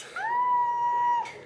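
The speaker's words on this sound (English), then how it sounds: "the sound you can hear is Jen being excited and the kettle going off" An electric kettle's whistle or alarm sounds early in the morning at home before travel day, a loud steady pure tone lasting about a second with a brief rise at the start.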